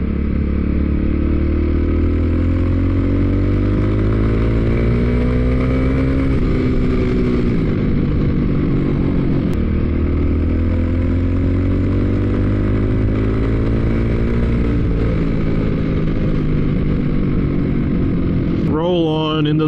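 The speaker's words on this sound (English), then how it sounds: "that cam chain sounds a little chattery." Kawasaki KLX 250 big-bore engine running steadily near the mic, its revs rising and falling with a rough, chattery cam chain rattle underneath, and a brief rev flare at the end.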